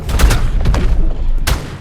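Primitive shotgun blasts in the survival game Ark, a quick burst of several loud, sharp shots close together followed by one more shot after a short pause, with no talking.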